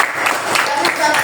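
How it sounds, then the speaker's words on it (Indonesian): Classroom applause for a student, a dense patter of many hands clapping steadily and fairly loud, with a bit of mixed voices blended in. "Kita beri tepuk tangan untuk Afkari."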